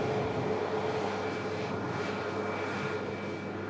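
A jet airliner passes over the airport, a broad continuous engine roar with a steady whine, fairly loud and close, slowly easing off toward the end with no voices.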